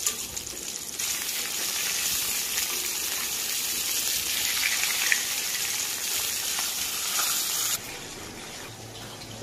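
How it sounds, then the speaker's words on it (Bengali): Fish frying in hot oil until crisp produces a continuous, loud, bubbling sizzle for several seconds that eases slightly near the end. "আমার বাড়িতে মাছ একটু কোড়া করে ভেজে তারপরেই খাওয়া হয়, তাই আমি মাছগুলি একটু কোড়া করেই ভাজলাম"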